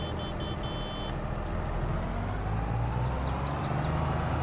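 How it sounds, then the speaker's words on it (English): A green tractor on Nokian Ground King tyres in Farming Simulator 22 runs with a loud, steady engine drone, briefly joined by a few reversing-style beeps at the start. "Really nice sounding engines."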